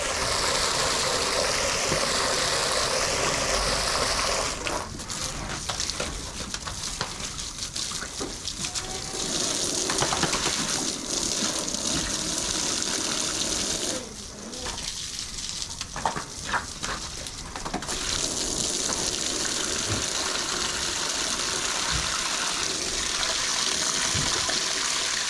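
Water drains and trickles out of a pan outdoors on a hot day in a long, steady wash of running and dribbling sound, near and continuous, with occasional splashes.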